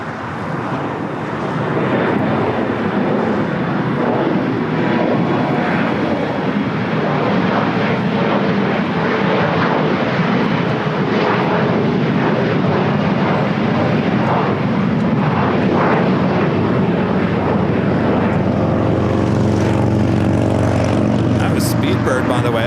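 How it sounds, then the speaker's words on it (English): A Boeing 777 arriving at Los Angeles International from London Heathrow, with a loud, continuous jet roar that rises and churns for the whole stretch while people talk over it. "The second 777 flight arriving from London Heathrow."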